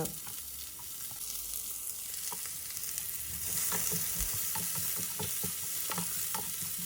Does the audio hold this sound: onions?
yes